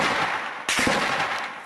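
A sharp burst of gunfire cracks out in Syria, a few quick shots in succession, over a steady noisy background, fairly distant.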